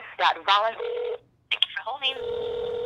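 Telephone dialing tones and a ringback tone while calling a hotline, with brief touch-tone beeps and steady tonal buzzing in two bursts, separated by a short silence, with a voice-like warble mixed in.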